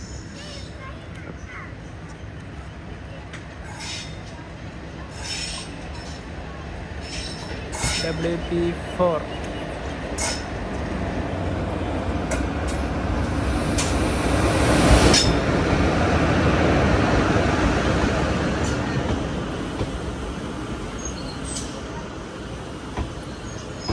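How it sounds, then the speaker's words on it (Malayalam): A Sengottai to Madurai express train rolls into a station, its rumble swelling to a peak midway and then fading, with brief wheel squeals, crows cawing and people talking nearby. "ചെങ്കോട്ടയിൽ നിന്ന് മധുരയിലേക്ക് വരുന്ന എക്സ്പ്രസ് അതിതാ ഇവിടത്തോട്ട് വരുന്നുണ്ട്"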